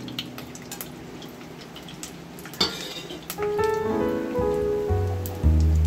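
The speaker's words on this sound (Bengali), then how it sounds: "তেলের মধ্যে একটা শুকনো লঙ্কা ফোড়ন দিলাম আর কিছুটা গোটা গরম মশলা ফোড়ন দিয়ে দিলাম" A dried red chilli and whole garam masala spices crackle in hot oil, a rain-like spattering sizzle with sharp pops that grows louder and is later joined by sustained tones.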